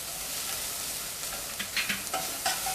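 Garlic and spices sizzle steadily in a cooking pot, a constant close frying hiss broken by a few stirring scrapes near the end, with no voices.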